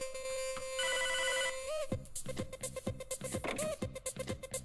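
A telephone rings in the Hotline Miami video game, a brief electronic trill heard against pulsing synth music with thumping beats.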